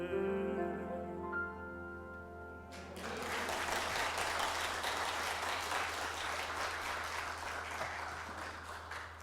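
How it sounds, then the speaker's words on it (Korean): A church congregation bursts into loud, sustained applause after a worship song, the closing music giving way to a dense wash of clapping that fills the room. "유독 더 박수 소리가 큰 것 같습니다."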